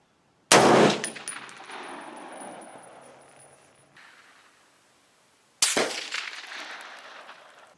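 Two loud, close M1A rifle shots fired with iron sights on a range, each a sharp crack followed by a long ringing decay, spaced about five seconds apart.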